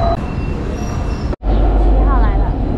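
A number 7 tram pulls into a stop in Graz, Austria: a loud, steady rumble of the approaching car with a brief metallic squeal near the end, a short break in sound partway through.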